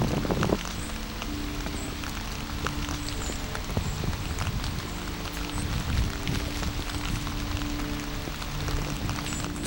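Heavy rain pours steadily in the Quebec woods during a caribou hunt, a dense continuous hiss with pattering drops close by and no one talking.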